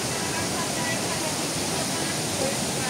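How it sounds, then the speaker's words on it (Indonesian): Water falling at Jumog waterfall in Karanganyar. A constant, loud hiss of cascading water fills the whole scene without pause. "suara air jatuh yang makin menambah keharmonisan alam"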